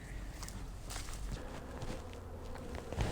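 Honey bees buzz and drone at a hive entrance on a cold, cloudy day, a steady low hum of traffic coming and going with a few louder passes near the end, no talk.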